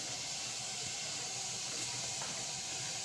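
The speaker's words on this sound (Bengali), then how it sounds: "হাঁড়িতে গরম জল ফুটছে" Water boiling in a pot for steaming pitha makes a steady, soft, hissing bubble with a constant airy rush and faint low gurgles, unchanging and without speech.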